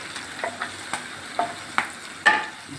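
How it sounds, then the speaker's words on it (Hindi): Tadka of oil and red chili sizzles in a small pan for chana dal, with a run of soft crackles and pops building to a sharper burst of frying, close and clear without speech. "ये हमारा तड़का तैयार है, बहुत मज़े की खुशबू आ रही है।"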